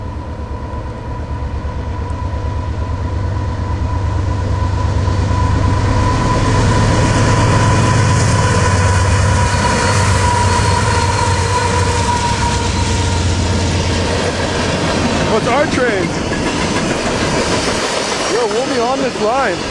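A train rumbles past up close, a loud steady roar with a low drone and metallic rattling that swells and then breaks into squeals near the end.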